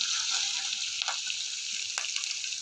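Curry leaves fry in hot oil with a ground masala paste, giving a steady, close sizzling hiss with a couple of brief crackling pops.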